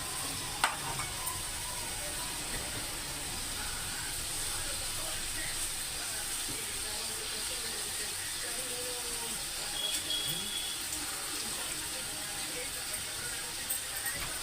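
Curry leaves sizzle in hot oil in a pan, a steady, even hiss of frying that holds for the whole stretch with faint clicks and pops, and a voice occasionally speaking in the background.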